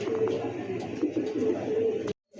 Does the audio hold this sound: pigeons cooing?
yes